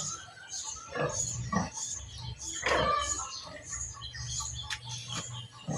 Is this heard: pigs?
yes